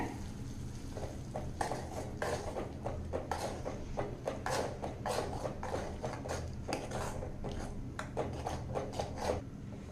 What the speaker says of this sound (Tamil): இப்போ கலந்து விட்டுறலாங்க